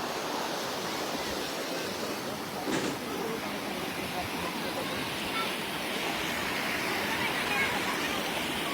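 Loud, continuous rushing floodwater roars without pause, a dense churning flow with a brief splash early on and faint speech underneath.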